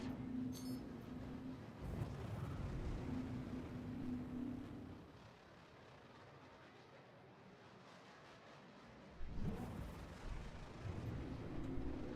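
Faint, distant gunfire rumbles in Star Citizen space combat, sustained booming bursts under a low engine hum, dropping out midway and then resuming.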